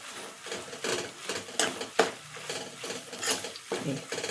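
Meal maker soya chunks stirred in a pan of cooked oil for gongura pachadi, producing repeated scraping and clinking strokes of a spoon against the pan in an uneven rhythm, close and fairly clear.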